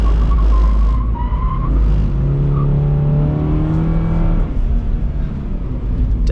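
A 2022 Subaru BRZ drifts with its engine droning loud and steady while the tires squeal in long skidding tones, heard from close range without any talk.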